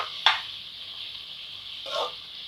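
Lengthwise-sliced onions fry golden in a pan for mushroom biryani, giving off a steady bright sizzle. Two brief stirring scrapes rise above the hiss.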